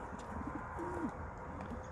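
Racing pigeons give a soft, brief coo inside a crate just before release on a training toss, faint and distant against a steady outdoor hiss.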